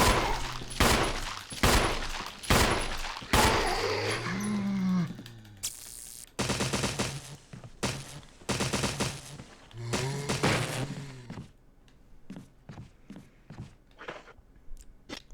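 Gunfire in Resident Evil HD Remaster: loud, sharp shots fired in a rapid string, then a few more spaced-out blasts, with low droning moans between them and scattered faint clicks at the end.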